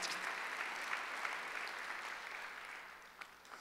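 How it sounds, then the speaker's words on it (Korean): A Korean church congregation applauding during a Sunday worship service, heard as a very faint, distant, even wash of clapping that holds steady and thins a little near the end. "박수로 하세요"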